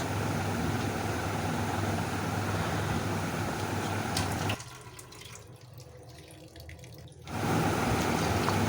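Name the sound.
water poured to soak cashews, raisins and melon seeds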